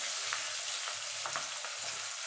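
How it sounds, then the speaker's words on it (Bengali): Pieces of rohu fish crackle in hot oil, a continuous close sizzle broken by light clicks and scrapes of stirring, no voices. "চলুন আমি এপুট এপুট করে মাছগুলো ভেজে নিই"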